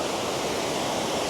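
Water from Kuang Si waterfall in Laos rushes along a stream, a steady, dense, close roar of flowing water with no voices.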